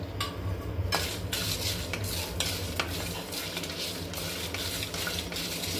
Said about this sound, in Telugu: ఇది బాగా అరోమా వచ్చేంత వరకు ఫ్రై చేయాలి, లేదా లైట్గా కలర్ చేంజ్ అయ్యేంత వరకు ఫ్రై చేసుకున్నా సరిపోతుంది